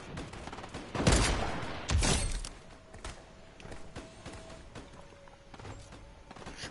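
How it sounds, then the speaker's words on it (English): Combat shotgun gunfire in a video game: two heavy, close blasts about a second apart, followed by scattered fainter shots and thuds amid a busy firefight. "all they know how to do is spam the fucking combat shotgun"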